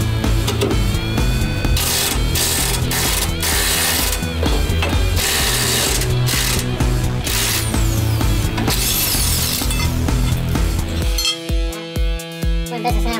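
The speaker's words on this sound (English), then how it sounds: "This is where I'm hoping this impact wrench really pays off." An impact wrench hammers at a rusty cross member bolt on a 1965 Mustang restomod. It gives a loud, continuous rattling, mechanical chatter that shifts into sharper, pulsing bursts near the end.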